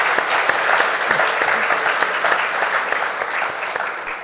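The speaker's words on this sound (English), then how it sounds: "I would love for you to give yourselves a round of applause for being an awesome audience." An audience claps for itself at a live question-and-answer show, a dense, even round of applause from a room of people, loud and sustained throughout.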